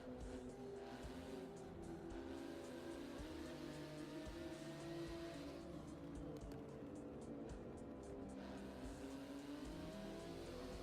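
A Porsche race car engine in the racing game Forza Motorsport 7 drones steadily and faintly throughout, with shifting revs and a constant mechanical hum and no break in the sound.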